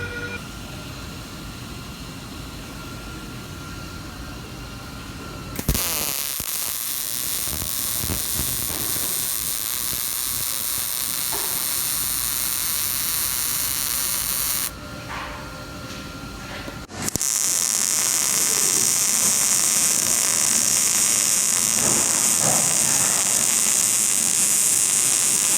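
Miller Multimatic 215 multiprocess welder laying a weld on metal in a body shop, long steady crackling arc hiss with a short break, then a louder, harsher stretch of sizzling.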